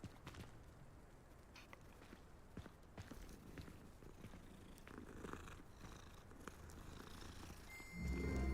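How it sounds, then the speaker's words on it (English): A cat purrs softly and continuously inside the Hogwarts Legacy video game, a low steady rumble under faint footsteps and game ambience, ending with a louder burst of game sound. "Meow meow"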